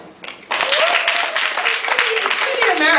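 Comedy show audience breaking into applause and some cheering in response to a question, a steady burst of clapping that rises suddenly and continues to the end.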